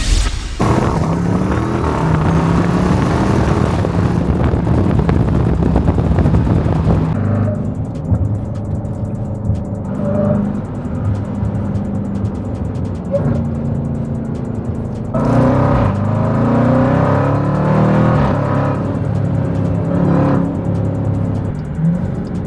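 A Jeep Grand Cherokee Trackhawk with a tune accelerates hard, its engine roaring loud and close through rising gear pulls, then easing off before another surging pull near the end.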